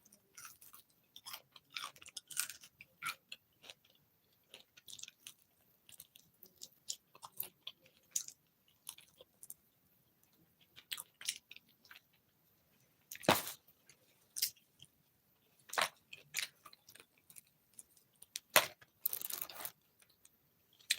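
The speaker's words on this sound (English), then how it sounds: "And these fries are crunchy like I like." Crunchy crinkle-cut fries chewed up close in a string of irregular crisp bites and munches, with sharper loud crunches near the middle and the end of the meal.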